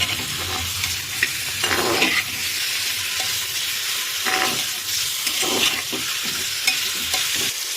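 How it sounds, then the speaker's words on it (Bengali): Loud, continuous sizzling of chicken frying hard in a pan on high flame, with repeated stirring and scraping sounds, close by and without speech. "এবার এটাকে হাই ফ্লেমে কিন্তু ভেজে নিতে হবে পাঁচ থেকে দশ মিনিট"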